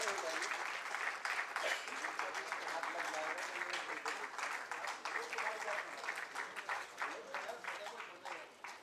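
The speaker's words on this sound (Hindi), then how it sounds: "आप सबकी तरफ से जोरदार तालियां थोड़ी सी हो देनी" An audience at a lecture event applauds as the main speaker receives a memento, with sustained, moderately distant clapping that holds steady and then slowly thins toward the end.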